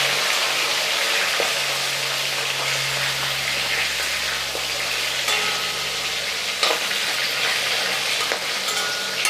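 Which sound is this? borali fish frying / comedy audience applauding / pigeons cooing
borali fish frying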